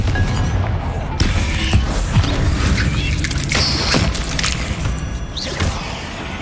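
A Confringo blasting spell goes off in Hogwarts Legacy, a dense burst of booming, crashing explosive noise with whooshes and thuds layered over a steady game soundscape for several seconds.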